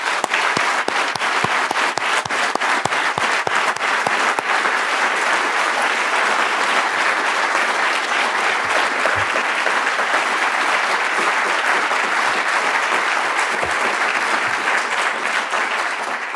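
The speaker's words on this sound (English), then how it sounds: "a round of applause." A symposium audience gives a long round of applause, with sustained dense clapping from many hands at an even level throughout.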